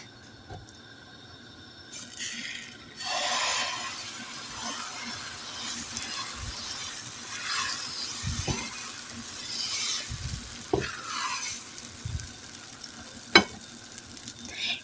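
Rice-flour batter for khola jha pitha sizzles and crackles in a dry, oil-free pan over high heat, with scattered scraping and knocking from utensils against the pan, close up and without talk.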